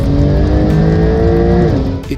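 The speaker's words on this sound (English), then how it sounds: "That is the beauty of a 911 launch." A Porsche 911 Turbo S launches hard off the line in a drag race. The engine gives a loud, close, rising roar that drops off as the short burst ends.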